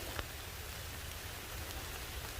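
Steady rain falls outdoors during a rainstorm while a bee swarm is being boxed, a soft, even hiss with faint scattered drops and no talking.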